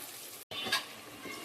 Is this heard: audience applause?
no